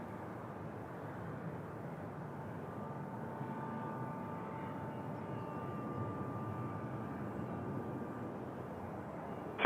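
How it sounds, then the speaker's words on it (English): An Airbus A220 airliner arriving at Toronto Pearson airport gives off a steady, distant engine rumble and drone that holds evenly throughout, faint and broad, with a thin sustained whine on top. "Let's get this A220 coming in from Seattle."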